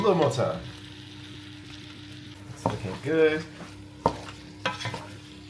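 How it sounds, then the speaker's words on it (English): Chicken thighs sizzle softly in coconut oil in a pan while a utensil stirs and scrapes, and a person speaks briefly over the cooking. "Frying them in that coconut oil."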